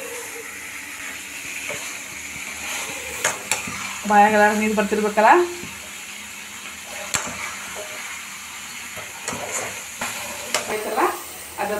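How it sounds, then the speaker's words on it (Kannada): Brinjal pieces fry in hot oil with a continuous sizzle, broken by bursts of stirring and scraping in the pan, while a person talks over the cooking. "ಬಟ್ ಎಣ್ಣೆ ಒಳಗೆ ಹಿಂಗೆ ತಳಿಸ್ಬೇಕು, ಕಲರ್ ಸ್ವಲ್ಪ ಚೇಂಜ್ ಆಗಲಿ ಬದ್ನೆಕಾಯಿದು."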